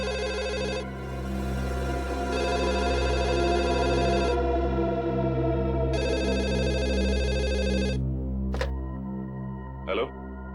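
A telephone rings in repeated electronic bursts with short gaps, loud and close, followed by a couple of brief clicks.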